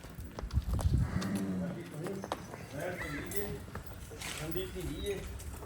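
Cows low and moo repeatedly at a farm, several animals calling near and far while people talk in the background.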